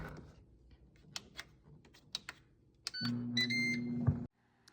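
Ninja air fryer on its dehydrate setting: soft button taps, then a few bright electronic beeps as the unit starts with a low fan hum, which cuts off abruptly. The sounds are close and there is no talk.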